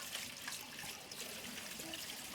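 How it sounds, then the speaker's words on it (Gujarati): Fenugreek leaves are rinsed under running water in a colander, giving a steady, faint splashing trickle throughout with no voices. "હવે મેથીને કાણાવાળા વાસણમાં લઈ એકદમ પાણીથી ધોઈ નાખીએ"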